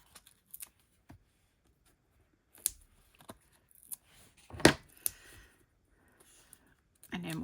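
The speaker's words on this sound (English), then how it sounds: "And then we'll just trim the ribbon." Scissors trim ribbon on a handmade card in a few sparse, close snips and rustles, with a louder crunch partway through and quiet pauses between.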